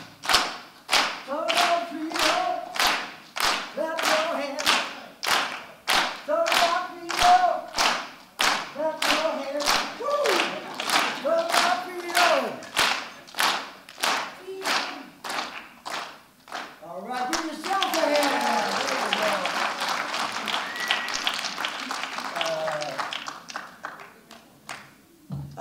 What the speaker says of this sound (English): Clap your hands, clap your hands, clap your hands, come on, clap your hands.